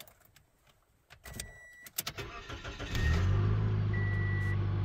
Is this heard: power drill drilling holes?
no